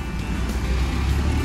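Car passing on a road near Sanjay Gandhi National Park, Mumbai, a loud rushing broadband roar of traffic close by, steady throughout the brief moment.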